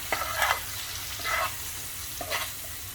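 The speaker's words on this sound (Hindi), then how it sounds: "बस अब मसालों के साथ इन्हें मिक्स कर लेंगे अच्छे से।" Green tomatoes with spices sizzle in a pan as a spoon stirs them, three scraping strokes over a constant frying hiss.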